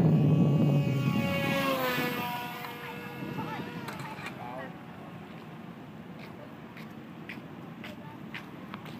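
A radio-controlled model Cessna 337 with a 1.5-metre wingspan flies overhead, its propeller drone loudest at first and then fading into the distance against wind noise.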